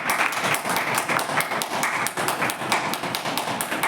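A church congregation at a Sunday meeting claps loudly in thanks to God. The rapid, dense applause runs steadily throughout and fills the room.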